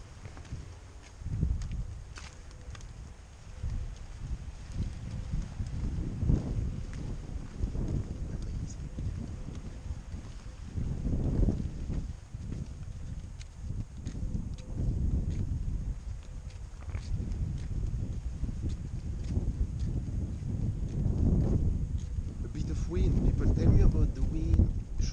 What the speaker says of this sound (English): the wind is not cool